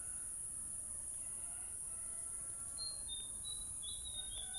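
A bird calls outdoors in a morning drizzle, a few faint, thin, high chirps arriving late against a quiet, steady background hiss.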